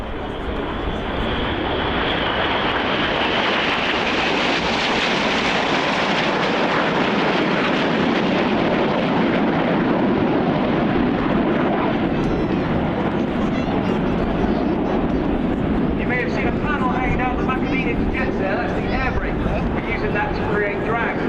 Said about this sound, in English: you'll see a single jet that is Red 9. He will now fly in between Enid's V